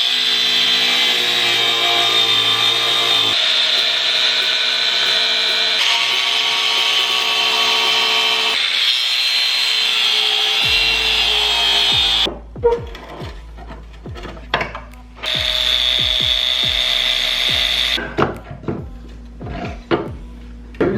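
Power tool cutting through a car subframe beneath the shock towers, a steady loud whine for about ten seconds, then broken off into short bursts separated by quieter gaps with clanks.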